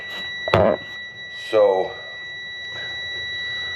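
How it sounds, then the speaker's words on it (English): A riding lawn mower's warning beeper sounds on starting, a Dixon mower fitted with a Cub Cadet engine; short electronic tones repeat a few times alongside a voice talking close by. "Now when I start it, should go off. The beep goes off."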